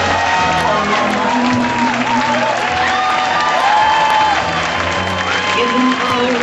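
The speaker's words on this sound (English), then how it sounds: "a big cheer, please" A cabaret show audience cheers and applauds for the bride, with continuous loud clapping, whoops and mixed crowd voices filling the room.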